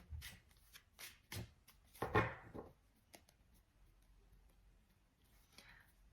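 Quick riffling tarot card shuffles, a few sharp flicks and one louder burst of cards, then near silence with faint handling.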